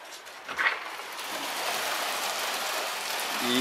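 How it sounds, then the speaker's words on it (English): Rain falls steadily outdoors with a broad, even hiss of drops on surfaces, growing slightly louder toward the end, with no voices. "Yep, it's raining."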